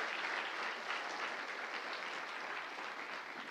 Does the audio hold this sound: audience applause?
yes